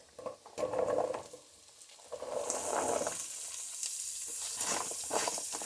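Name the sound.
garlic, carrots, celery and onions sizzling in pot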